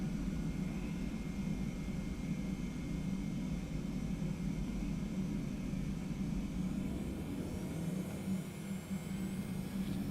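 A steady, loud roar from the twin engines of a TFDi Boeing 717-200 at takeoff thrust in the Prepar3D simulator, with a broad rumble and whine that stays constant and close throughout.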